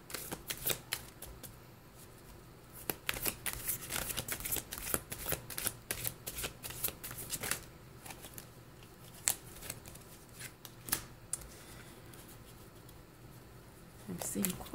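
Tarot cards shuffled by hand, rapid crisp riffles and slaps in irregular bursts, close and fairly quiet, with brief pauses between.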